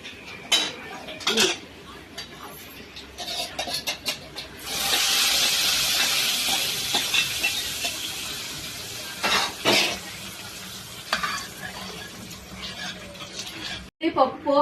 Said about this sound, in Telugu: పోపు కట్టేస్తున్నాను